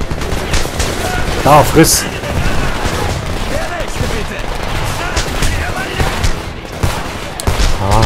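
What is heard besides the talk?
pistol gunfire in the video game Homefront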